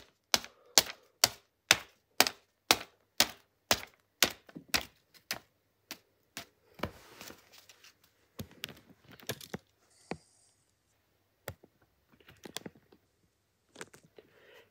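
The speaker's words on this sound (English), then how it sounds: "Okay, let's destroy it with scissors!" Scissors chopping up a DVD: a rapid, regular run of about a dozen sharp cracking snips, then slower, fainter scattered clicks and rustling.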